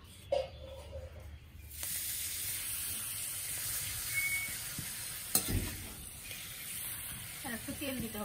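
Vadas frying in reused cooking oil, a continuous close sizzle with occasional sharp clanks of a utensil against the pan and brief bubbling bursts.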